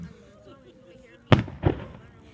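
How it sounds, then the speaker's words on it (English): Two loud fireworks bangs burst in quick succession at an outdoor fireworks show, sharp and somewhat distant, over faint crowd murmur and talk. "It's called fireworks."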